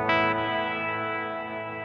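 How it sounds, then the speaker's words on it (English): An electric guitar chord rings through an Afterneath reverb pedal, a sharp attack blooming into a long, sustained, ethereal reverb tail that holds steady at near-full loudness with no one talking. "you hear how long it can hold on to that reverb tail"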